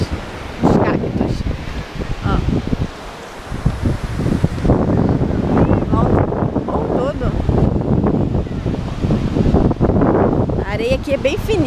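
Gusty wind buffets the microphone on a sandy beach at Arraial do Cabo, a loud, continuous roar with surging gusts, likely mixed with surf, and no clear talk over it.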